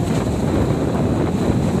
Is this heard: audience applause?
no